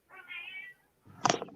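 Two short meows from a house cat, close and clear: a drawn-out tonal mew followed by a sharper, brighter cry after a brief pause.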